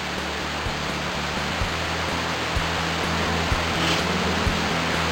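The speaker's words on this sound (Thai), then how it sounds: "เราอยู่กันที่ น้ำตกโดมอิดกชั้นที่7ครับ" The seventh tier of a Thai forest waterfall, Kroke E-Dok, gives off a loud, constant broadband rush of falling water close by, with a faint regular low thumping beneath it.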